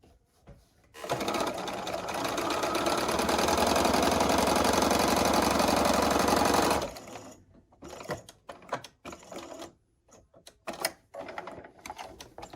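A sewing machine runs steadily for nearly six seconds while stitching quilt pieces, close and even, then stops, followed by scattered handling clicks and rustles of fabric.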